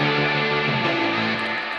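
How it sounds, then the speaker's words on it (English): Brief burst of distorted pop punk electric guitar with a stuttering effect, dense and loud throughout, easing slightly toward the end. "and this guitar stutter,"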